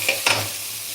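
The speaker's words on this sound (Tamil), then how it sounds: "இது நல்லா கொஞ்சம் வதக்கிறதா இருக்குது வதக்கிட்டோம்னா நல்லாயிருக்கும்" Bottle gourd sautéing in a pan with mustard seeds, lentils, curry leaves and green chili, giving a brief steady sizzle with two quick stirring scrapes near the start.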